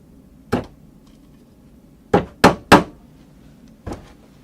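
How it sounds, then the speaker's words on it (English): Sharp upholstery hammer taps on the padded surface of an 1800s sofa: a single strike, then a quick run of three, then one more, with quiet between. "That's the best trade hammer for upholsterers that you can get."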